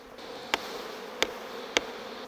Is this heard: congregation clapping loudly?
no